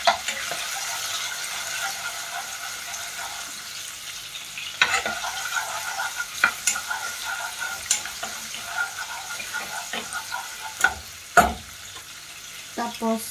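Ginger sautés in a pan for a Filipino squid dish, a soft continuous sizzle punctuated by sharp clicks and clatters of a utensil against the pan, close and fairly quiet.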